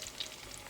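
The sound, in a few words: okra frying in hot oil in a pan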